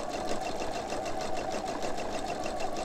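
A sewing machine stitches clothesline rope fabric fed through the presser foot, its rapid even needle chatter running close and loud without pause.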